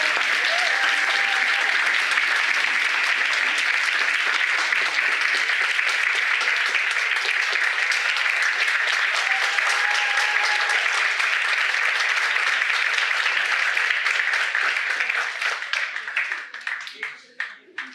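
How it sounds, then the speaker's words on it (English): Sustained audience applause at an international environmental moot court competition ceremony, a thick even roar of clapping with faint voices underneath, holding steady for about fifteen seconds before tapering off. "Please give them a round of applause."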